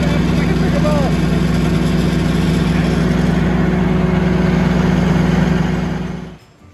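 A walk-behind lawn mower engine running on a lawn of fescue and bent grass, a loud, steady close-up drone with a constant hum that cuts off near the end.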